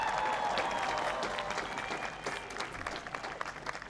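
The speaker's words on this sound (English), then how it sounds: "Give them a big round of applause." Audience applause for National Park Service staff at the outdoor National Christmas Tree lighting, a dense, steady wash of clapping from a large crowd that holds strong and slowly thins over several seconds.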